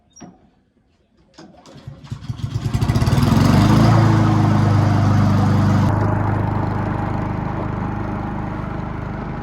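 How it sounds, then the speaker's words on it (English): A Honda lawn mower engine starts with a few pulls, then revs up into a loud, close, steady drone while cutting tall grass, holding strong throughout with slight dips in load. "it's gonna be a tough day's work for this Honda mower"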